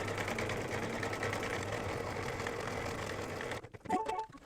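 An embroidery machine stitches the reverse applique placement outline of a rabbit on an in-the-hoop bib, a steady loud mechanical whirring hum that stops abruptly near the end, followed by a few brief clunks and rattles.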